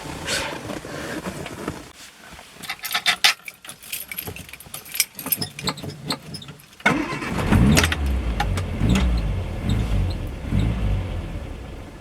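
Morris Marina car engine cranking and catching, preceded by keys jangling and interior clatter, then a loud steady idle rumble that continues close by to the end.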